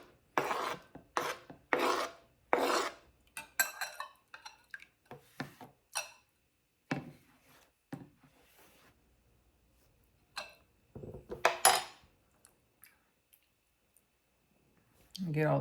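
Seeds and pulp are scraped off a harvested garden vegetable in short rasping, filing strokes, bursts of scraping with pauses between them, close and fairly quiet.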